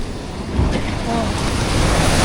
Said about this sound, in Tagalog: Tayo ang lakas ng alon.